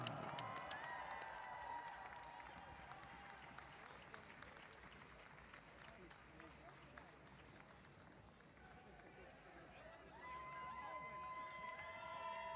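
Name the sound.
audience applause and cheering for the race winner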